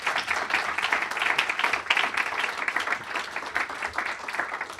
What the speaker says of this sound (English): Big round of applause for our panel here.